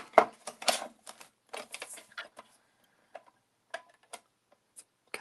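A paper trimmer cutting a sheet of paper at a craft table, heard as a series of close, dry clicks, scrapes and sliding blade strokes in irregular bursts with short pauses, no talking.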